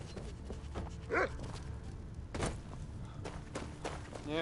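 A dog in Skyrim gives a few short barks and yips amid soft footsteps, fairly quiet and close, with no talk over it.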